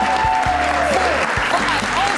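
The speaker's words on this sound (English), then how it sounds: "There's a lot of hooting and hollering and applause." Hooting, hollering and applause at an industry event, loud dense crowd clapping with voices whooping and calling out over it, plus a few low thumps.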